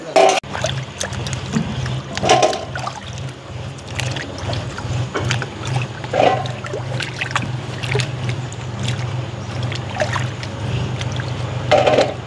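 Harvested sweet potato tubers sloshed and rubbed in water to rinse off garden soil, a steady close splashing and swishing with occasional heavier knocks, without speech.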